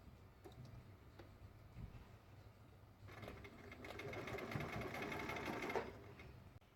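Sewing machine stitching a Christmas tree stuffed toy, a low faint hum with light ticks for three seconds, then a louder steady run of rapid stitching before it slows and stops.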